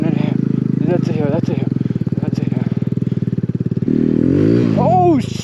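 An off-road motorcycle climbs a snowy hill during a Texas snowstorm, its engine buzzing loud and close with a rapid pulsing note that shifts pitch as the throttle changes, while a rider speaks and exclaims over the engine.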